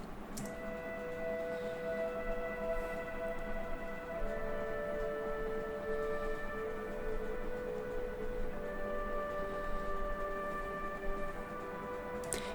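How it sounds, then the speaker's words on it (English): A soft, sustained dizi Chinese bamboo flute melody with held notes, quiet and ambient over a faint background hiss. "this is the sound of the dizi"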